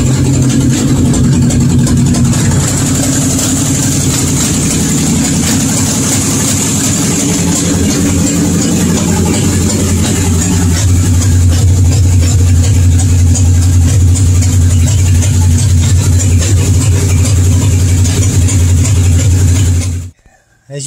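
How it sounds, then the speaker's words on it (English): A 1962 Comet car engine idles steadily in a garage, a loud continuous low rumble with a constant drone and no talking, cutting off abruptly just before the end. "I ran this engine on idle for 15 minutes."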